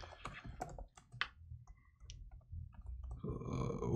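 A scattered run of close keyboard keystrokes on a computer, crisp separate clicks in short bursts, followed by a rising rustle of background noise.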